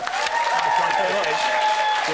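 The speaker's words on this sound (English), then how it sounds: "Give him a big round of applause" A studio audience at a Big Brother spin-off show breaks into steady, sustained applause that fills the whole moment, with a bright tonal layer like music running over the clapping.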